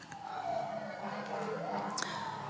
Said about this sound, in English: I'm waiting for the sirens to pass.